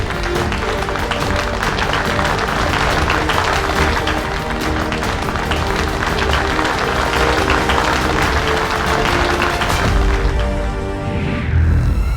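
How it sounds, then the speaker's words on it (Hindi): Loud, sustained applause from a crowd cheering a brave young hero in a Baalveer fantasy TV scene, mixed with dramatic booming music and crashing effects throughout. "इसी बात पे शूरवीर विवान के लिए जोरदार तालियां।"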